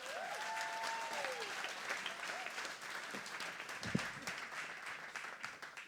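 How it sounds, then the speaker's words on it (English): An audience applauds to welcome Farrah Spears, a realtor, onto the stage at an evening event, the clapping sustained at moderate level with a few whoops and voices rising from the crowd. "You already got 2 rounds of applause."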